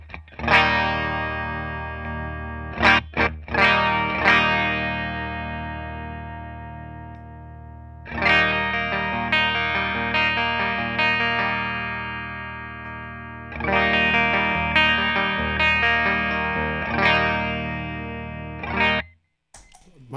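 Electric guitar run through a Carl Martin Andy Timmons compressor pedal, playing sustained chords and notes in bursts with short gaps, a few quick strums early on and long ringing passages, loud and close with no talking.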